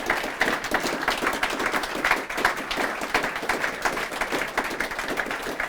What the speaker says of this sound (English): that's the longest round of applause we've ever had